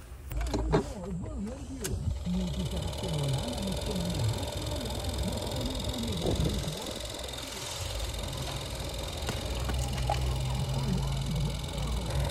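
A worn aircon blower in a Toyota Vios runs with a steady, loud droning hum and a rough whirring rattle, continuous throughout with some clicks at the start.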